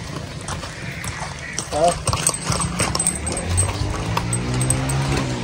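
Horse hooves clip-clop steadily on the ground as a horse arrives, heard close with a busy background and people talking over it.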